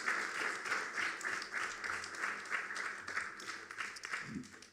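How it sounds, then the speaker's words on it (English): A faint round of applause from a gathering at a bhajan session in a Sai centre, a soft, fairly steady patter of many hands that thins out toward the end. "Another round of applause for Brother Jerry"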